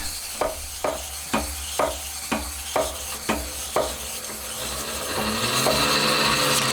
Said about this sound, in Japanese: あとはひたすらクイルを上下させて削っていきます